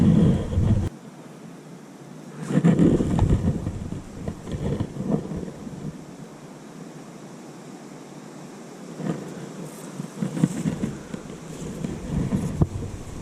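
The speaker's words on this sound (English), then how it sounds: "Trying to wait till the wind sort of stops, because if it's blowing and then I cast and it stops" Wind gusts roar and buffet over a fishing swim on a riverbank, rising and falling in broad, rumbling surges with low microphone buffeting and no talk.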